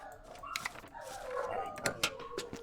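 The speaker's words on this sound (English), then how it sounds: "Oh my goodness, my dogs." Dogs barking and howling indoors, a drawn-out wavering howl with a few sharp barks after it, muffled and fairly faint.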